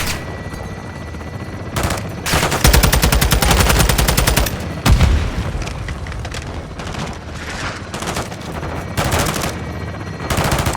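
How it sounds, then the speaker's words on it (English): During a gun run in Call of Duty Modern Warfare 2, an aircraft cannon fires in loud, rapid bursts that come as heavy rolling volleys, separated by brief pauses and punctuated by booming impacts. "Weapons hot for gun run"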